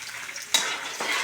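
Sautéing in a pan for tilapia steak, a close hissing sizzle with a sharp stir or clink midway and a second softer burst near the end, brief and fairly loud.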